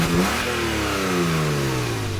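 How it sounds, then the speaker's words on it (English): Porsche 911 Carrera S (2017 Cabriolet, manual gearbox) engine revving hard under acceleration, a loud close rising then falling engine note held for about two seconds with no talk. "Sounds very much like a 911."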